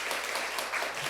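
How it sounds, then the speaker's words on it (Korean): Audience applause at a high-school debate final as a presenter is welcomed onstage, a steady, dense wash of clapping throughout, moderately distant and without talk. "네, 모두 큰 박수 부탁드립니다."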